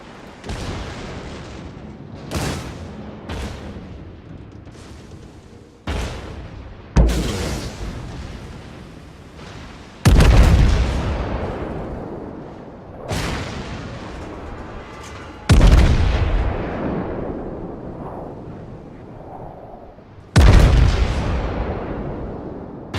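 Naval gunfire in the warship game World of Warships, friendly fire landing nearby: a series of heavy booming blasts, about eight, spaced irregularly with long decaying rumbles between them, loud and without voices.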